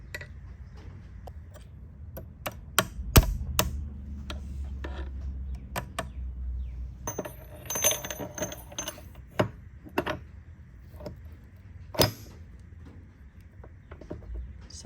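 Metal clips and small parts click and tick into place on a Corvette T56 transmission during a rebuild, producing scattered sharp close snaps and ratcheting taps with quiet pauses between them.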